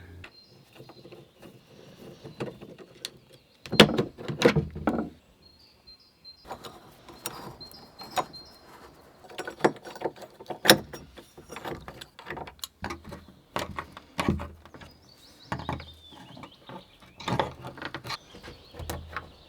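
A broken lock is worked loose from a door, with sharp metallic clicks, ratcheting rattles and scraping bursts in irregular clusters, separated by quiet gaps.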